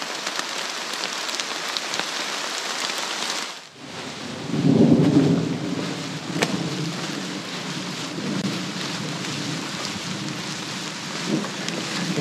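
Steady heavy rain pours throughout at a rural Florida homestead, with a deep rumble of thunder rolling in partway through and lingering beneath the downpour.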